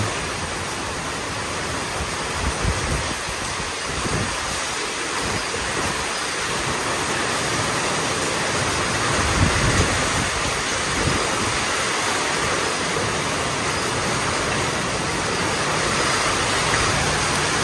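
Heavy rain pours with a strong gusting wind in the rural Philippines, a dense steady hiss that stays loud and unbroken throughout.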